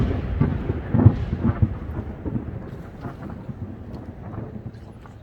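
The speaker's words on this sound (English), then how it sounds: "say that you heard the thunder" Thunder rumbles through a rain-soaked storm, opening with a loud rolling crack before fading into a long, low grumble under steady rainfall and light wind.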